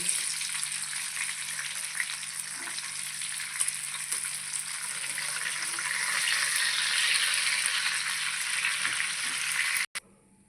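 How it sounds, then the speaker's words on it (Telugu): Prawns frying in hot oil give a steady, dense sizzle that holds throughout with no talk, swelling slightly toward the end before a sharp knock and a sudden drop. "ఇవి కూడా కొంచెం వేయించుకుందాము"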